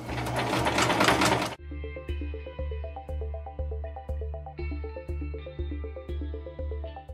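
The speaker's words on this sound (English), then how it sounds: "we'll kind of jump back and forth between hand sewing and using this sewing machine" A sewing machine stitches fabric for a handmade dragon art doll. After a brief burst of broadband rustling, it settles into a steady, close rhythm of mechanical stitching pulses, about one per second, with a clattering needle action.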